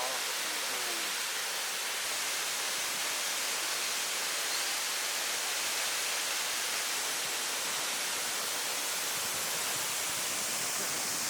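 Waterfall on Jeju Island, a steady, loud broadband rush of falling water that fills the whole clip without pause, with no clear voices on top.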